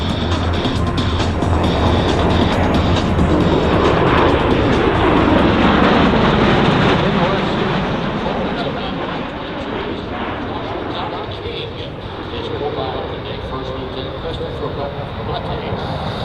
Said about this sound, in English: But the Osprey is not simply a new helicopter, it is part airplane and part helicopter.